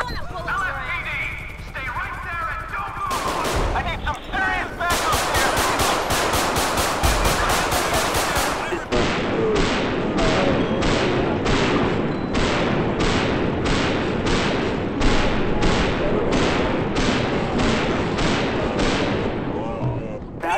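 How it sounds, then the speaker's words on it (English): Rapid automatic gunfire in GTA V during a police patrol shootout, long sustained bursts of evenly spaced shots that stay loud and dense throughout, with a brief pause early on before the firing resumes. "Shots fired, dispatch, shots fired."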